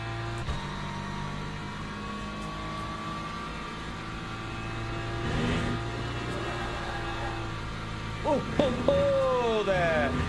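A BMW race car engine in the Le Mans Ultimate racing game holds a steady, droning pitch, then revs and shifts near the end with rising and falling tones, while someone talks over it.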